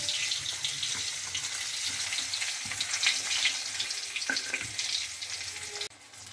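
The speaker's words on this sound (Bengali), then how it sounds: "একবারই কিন্তু ভাজা আমার ফুলাবে না, আমাকে দুবার ভেজে নিতে হবে" A close, continuous sizzle comes from brinjals frying a second time in oil, with a few light knocks over it and a sudden drop near the end.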